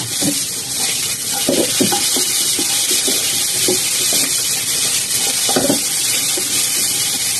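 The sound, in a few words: diced potatoes stir-frying in a wok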